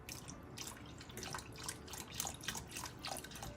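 Chicken broth pours into a Ninja Foodi pressure cooker pot in a short, steady splashing stream with small bubbling surges, close and fairly quiet.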